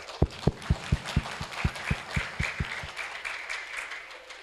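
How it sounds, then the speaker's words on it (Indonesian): An audience at an Islamic primary school graduation and open Qur'an exam gives a round of applause, a quick series of sharp, loud claps in steady rhythm that thins out and fades toward the end. "aplaus untuk Ustadz Rifai"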